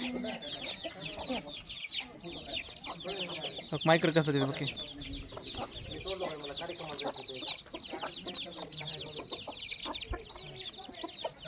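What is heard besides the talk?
chickens clucking, white rooster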